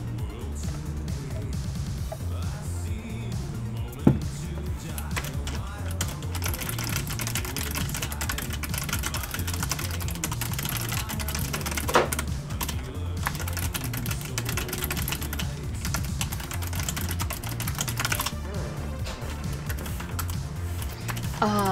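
Someone types steadily on a computer keyboard during a Final Fantasy XIV session, a dense run of quick, close key clicks with occasional louder taps over a constant backdrop of game music.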